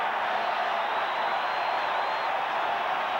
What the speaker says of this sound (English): Listen to that crowd. They love it.